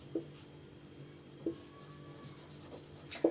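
Pen or marker strokes writing out a math equation by hand, a few short scratchy taps and rubs at irregular intervals, faint and close against a quiet background with no talking.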